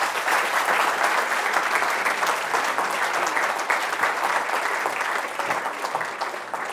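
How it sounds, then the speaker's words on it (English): A crowd in an event hall applauds after a final pitch on stage, a dense and sustained wash of clapping that holds steady and then eases slightly toward the end. "a round of applause for our dragons"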